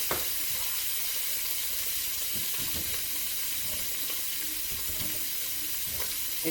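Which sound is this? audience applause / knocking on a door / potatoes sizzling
potatoes sizzling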